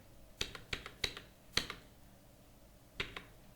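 Typing an invoice number on a computer keyboard: a handful of crisp, close key clicks in quick bursts, then a pause and two more taps, with no talk.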